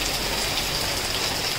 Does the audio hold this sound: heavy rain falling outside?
yes